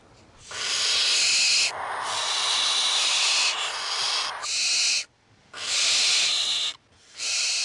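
A barn owl on Dartmoor gives a series of long, harsh, breathy screeches, loud and close, with short silent gaps between them.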